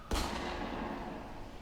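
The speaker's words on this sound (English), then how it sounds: "It sounds like gunshots." A single sharp gunshot booms in the Spiroverse video game, a sudden blast that trails off into a long, fading rumble at moderate distance.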